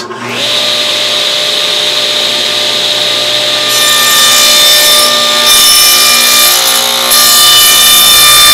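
A table saw cutting a dado groove into wood boards gives a loud, steady, high whine throughout, with the pitch and grinding texture shifting slightly as the boards feed through the blade.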